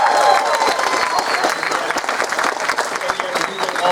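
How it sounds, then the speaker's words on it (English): A convention crowd at an anime convention Q&A panel applauds loudly, dense sustained clapping with a few cheers and voices mixed in. "So give him a round of applause."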